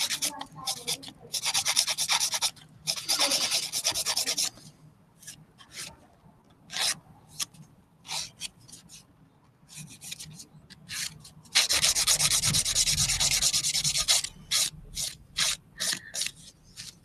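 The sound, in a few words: nail buffer filing nails, 100-180 grit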